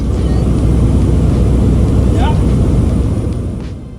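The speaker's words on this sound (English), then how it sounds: "I took a small airplane that could only fit a few passengers in it and had a propeller on the nose" A small single-engine propeller airplane with the prop on the nose and room for only a few passengers makes a dense, constant drone, heard from inside the cabin at full loudness, easing slightly near the end.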